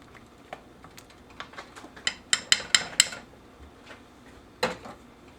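A spoon stirs corn soup in a cast iron pot, giving a series of sharp metallic taps and scrapes, clustering into a quick burst of clinks near the middle and one final knock, with no voices.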